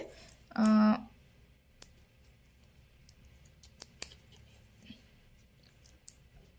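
Scissors snip through plastic basket-weaving wire in a single brief, loud cut near the start, followed by quiet handling with a few small clicks and soft ticks.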